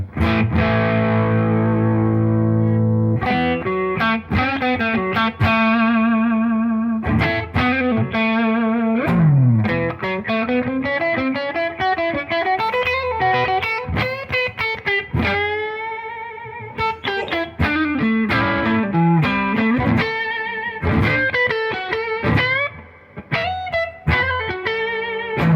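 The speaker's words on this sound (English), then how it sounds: "this is the neck pickup, and it's got a nice kind of bluesy tone to it" A PRS SE Custom 24 electric guitar on its neck pickup plays a long, sustained bluesy solo with warm, slightly overdriven tone, bends and held notes, loud and continuous without talking.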